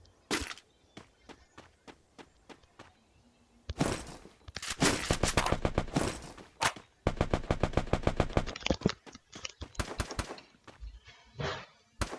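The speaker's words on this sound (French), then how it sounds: "J'entends tirer, mais je vois personne." Bursts of gunfire in the video game Free Fire, starting with scattered single shots and moving into long rapid automatic volleys, loud and close, with short pauses between strings of shots.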